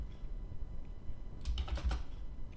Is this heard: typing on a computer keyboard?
yes